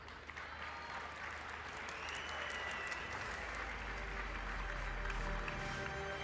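Steady applause from a crowd, continuous and moderately loud throughout, with no voices standing out.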